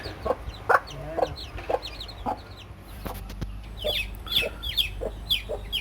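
A country hen clucks in short, repeated bursts while her six newly hatched chicks cheep in thin, high peeps nearby, with no talking.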